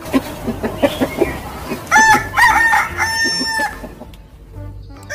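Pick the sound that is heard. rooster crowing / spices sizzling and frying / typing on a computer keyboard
rooster crowing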